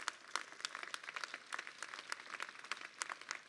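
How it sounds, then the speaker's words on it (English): Commencement audience at the University of South Carolina Upstate applauds faculty and staff, with dense, steady clapping from a large crowd at moderate distance throughout. "Graduates, please give them a round of applause."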